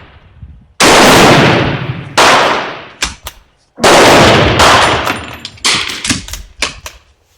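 Several loud Mauser rifle shots ring out one after another, each with a long rolling echo tail, interspersed with a few quicker sharp cracks, and no voices.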